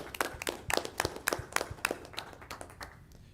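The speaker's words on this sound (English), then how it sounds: "Let's give ourselves a round of applause for all the work we did." A short round of applause from a small group at a city council strategic planning workshop: about a dozen distinct, fairly close hand claps in an uneven rhythm, thinning out and fading by the end, with no talking.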